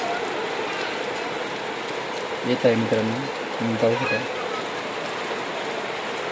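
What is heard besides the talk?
rain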